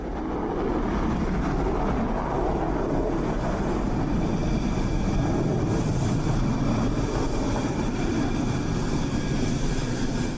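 Rafale fighter jets arriving in India roar overhead, a loud, continuous broadband rumble that holds steady for the whole stretch with no voices.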